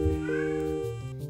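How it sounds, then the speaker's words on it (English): A house cat meows close by in one sustained, loud call with a rising then falling tone, heard alone with no talking. "I'm sorry about my cat, he's calling me"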